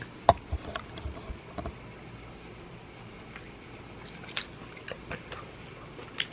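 Someone bites into and chews a wet, spicy sandwich close to the mic, with soft crunchy and squishy mouth sounds at scattered moments over quiet background, no talking.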